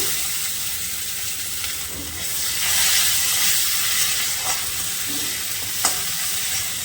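Panch phoron five-spice and bay leaves tempering in hot oil in a pan give off a loud, continuous sizzle. Stirring sounds through it, with a couple of faint clinks from the utensil.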